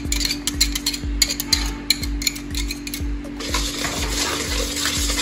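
Oil and ghee are beaten together with sugar and eggs for a cake batter, giving a steady, rhythmic clatter of regular strokes with soft low thumps and a bright ticking edge, close and continuous, with no talk.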